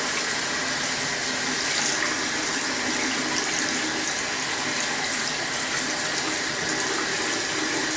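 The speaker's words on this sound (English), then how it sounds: "I'm going to rinse it off now, both the brush and the model" Running tap water rinses a paint-stripped plastic Warhammer goblin model and a brush, a steady close splashing stream that holds evenly for the whole stretch.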